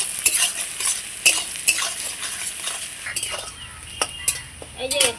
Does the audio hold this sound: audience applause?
no